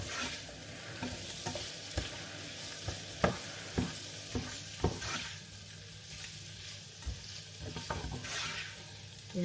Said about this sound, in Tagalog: continuously lang ulit yung paghalo hanggang maluto yung spam